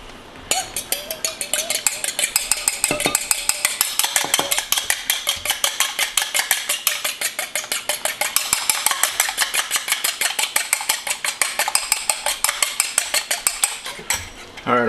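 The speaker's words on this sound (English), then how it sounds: "Gonna give that a little beat here with a fork." A fork beats a mixture in a bowl with rapid, steady clinking taps against the sides, close and fairly loud, continuing for a long stretch before stopping abruptly.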